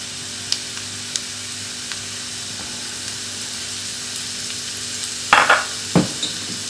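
Onion and peppers fry in a pan with a soft, steady sizzle over a low hum. Near the end, a couple of sharp utensil clacks ring out against the pan.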